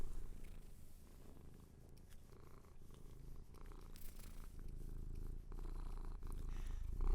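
A cat purrs steadily and very close, a low rumbling rhythm with no voices, continuing throughout.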